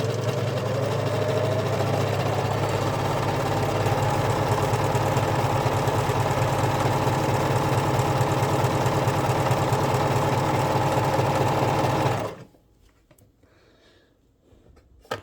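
A serger sewing machine stitches a sweater side seam, running as a loud, steady whir with rapid rhythmic needle chatter for about twelve seconds before stopping abruptly into near silence.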